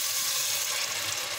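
Water pours into a hot pan of beef rice with a steady, loud sizzle and hiss, continuous throughout with no talking.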